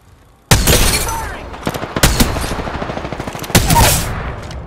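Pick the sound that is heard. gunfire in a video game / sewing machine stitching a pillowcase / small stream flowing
gunfire in a video game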